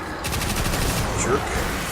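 Rapid submachine gun fire in Destiny 2: Curse of Osiris, a fast, even stream of close, loud shots with no break across the brief burst.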